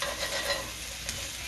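Scallops sizzle steadily in a hot pan as they are turned over, a close, continuous hiss with a few brief scraping bumps from the flipping.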